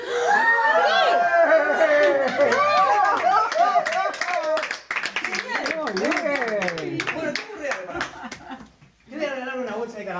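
Audience at a children's magic show clapping in a quick, uneven burst over a performer's talk, with a few chuckles, then talk resuming after a short pause.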